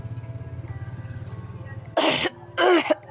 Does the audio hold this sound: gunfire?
no